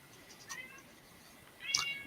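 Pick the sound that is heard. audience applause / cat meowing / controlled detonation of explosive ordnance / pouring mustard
cat meowing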